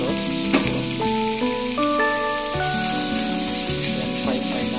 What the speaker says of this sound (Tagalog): Yan, fry natin guys.